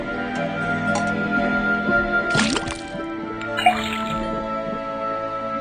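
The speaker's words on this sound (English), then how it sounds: "then tap the faucet." In the Detective Grimoire game, liquid drips from a tapped faucet into a cauldron: scattered drips and a brief splashy burst midway, plus a sharp drop later, over constant game ambience.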